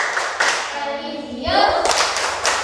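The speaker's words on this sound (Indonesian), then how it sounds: "mari kita melakukan tepuk PPK" Children in an Indonesian classroom doing a rhythmic clapping chant: bursts of group clapping and thumps around chanted voices, loud and close, with a short chanted phrase between clap groups.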